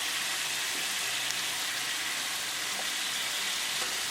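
Salmon sizzling steadily in masala in a pan over a medium-low flame, a loud, continuous close-up fry while the pieces are gently stirred, with occasional soft scrapes.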